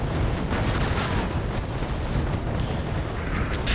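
Artillery barrages land in the battlefield strategy game Wargame Airland Battle, a dense rolling rumble of overlapping booms and blasts that stays loud throughout.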